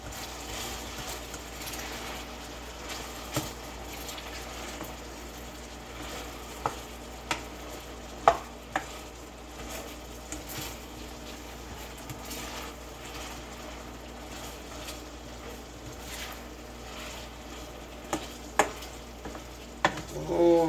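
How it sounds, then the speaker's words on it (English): Apples fry in olive oil in a pan with a steady, close sizzle that runs throughout, broken by occasional sharp clinks of a utensil against the pan. "I'm making fried apples."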